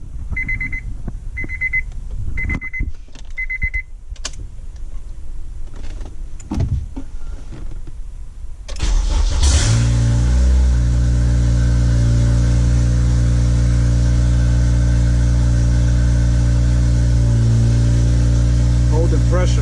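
Turbocharged Acura RSX Type S engine cranking and firing up after several chimes, then settling into a loud, steady, close idle that fills the rest of the clip, with a person speaking before it starts.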